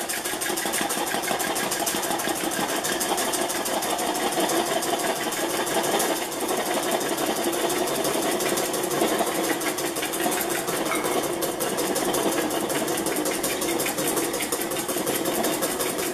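An electric mixer whipping two egg whites to soft peaks, a loud continuous motor whir with a fast, steady buzz that holds nearly unchanged throughout, nobody talking.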